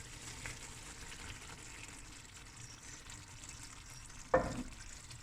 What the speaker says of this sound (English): Now we're going to add a can of coconut milk.